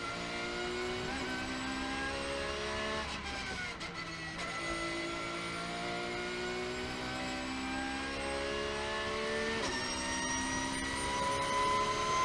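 Porsche race car engine droning steadily at a distance, a faint, sustained high-pitched whine that rises and shifts as the car passes, with no talking.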